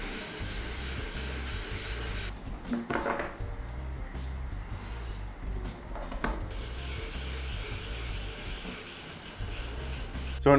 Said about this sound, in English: because I recently picked up this 3000 and 8000 grit whetstone, I'm going to do that same process, going to 3000 and then going to 8000 as well